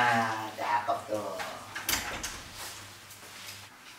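A door being shut, a short knock-like thump partway through, heard under people talking in Indonesian nearby.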